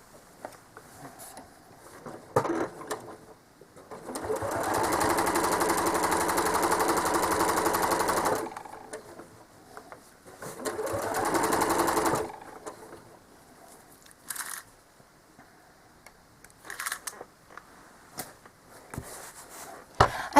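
A home sewing machine quilting stitches on a star-patterned quilt, two long humming runs of rapid stitching separated by quieter handling clicks and shuffles, close but fairly soft.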